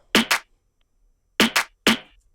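Snappy layered stock Logic Pro snare-and-clap hits land in pairs and singles, crisp and dry with quick decays and silence between them.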